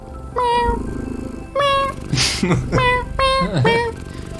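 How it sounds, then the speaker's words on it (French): Several cats meow one after another, loud and close, their calls overlapping slightly with a brief rustle in between. "Une centaine de chats"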